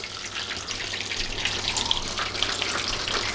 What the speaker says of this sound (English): while this next batch finishes frying